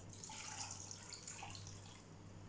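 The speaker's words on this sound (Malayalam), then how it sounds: "ഇനി വെള്ളം ഒഴിച്ചു കൊടുക്കാം." Water poured into a pan over boiled cassava pieces, a faint, brief trickle and splash lasting a couple of seconds.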